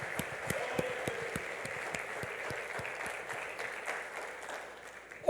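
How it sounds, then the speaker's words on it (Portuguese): A church congregation claps in praise, with sharp rhythmic claps standing out over a softer bed of general applause, moderately distant and steady, ending on a brief louder burst. "Podemos dar salva de palmas para um Deus tão bom"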